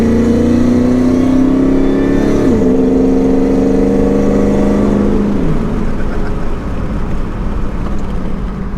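A loud Ford F-150 Lightning pickup's supercharged V8 revs up twice and drops back to a deep, throaty idle, its exhaust rumbling steadily nearby.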